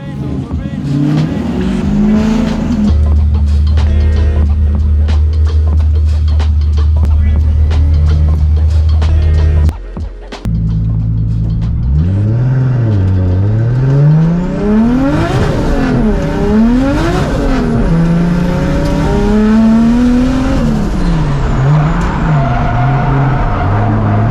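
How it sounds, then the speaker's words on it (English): Pink turbocharged Nissan Skyline R32 drifting, engine droning and revving with rising and falling pitch sweeps, a brief cut in power midway, then screeching tires and surging revs up close and loud. "I'm about to drive the Keep It Reed Pink R32 for the very first time"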